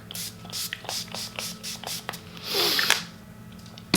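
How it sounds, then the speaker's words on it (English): Short, soft hissing sprays of facial mist repeat at a quick rhythm nearby, then a longer mist burst follows, with faint background hum. "I'm gonna spray myself with some Josh Rosebrook"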